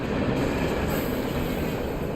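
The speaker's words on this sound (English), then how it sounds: "it's a train" Train rolling past in the video game Alan Wake, a continuous loud rumble of wheels on rails with faint metallic squeal, steady and close throughout.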